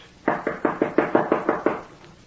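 Nine firm knocks on a door come in a quick, even series, close and fairly loud, then stop. No one speaks.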